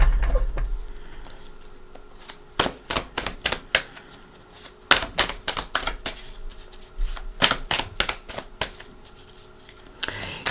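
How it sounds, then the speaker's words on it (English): Tarot cards being riffled and shuffled by hand in repeated bursts of crisp, rapid flutters, with brief pauses between bursts and no talking. "I am going to shuffle for your cards instead of taking off the top of the pile."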